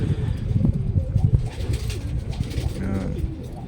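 Racing pigeons coo at a derby race loft in Legazpi, Albay, soft repeated throaty calls from several birds nearby, under steady outdoor noise and people talking.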